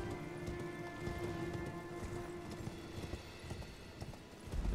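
Horse hooves clip-clop in Elden Ring, a faint, steady patter of footfalls with soft ambient noise and no talking.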